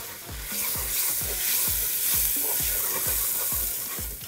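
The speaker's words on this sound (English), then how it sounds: "So the rice has been washed. I'm gonna put that in. Now we're gonna stir that around." Washed rice is stirred into browned vermicelli in a pot for Egyptian koshary, a spoon scraping in a steady rhythm of about a dozen close strokes over a constant sizzle.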